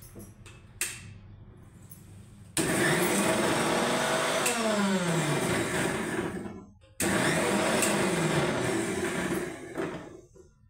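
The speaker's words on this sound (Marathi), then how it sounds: "आणि आपण इथे आता हे मिक्सरला वाटून घ्यायचं" A kitchen mixer grinder whirs loudly while grinding neem leaves with curry leaves and coriander into an Ayurvedic chutney, running in two long bursts separated by a short pause, close and steady with a rising, straining pitch.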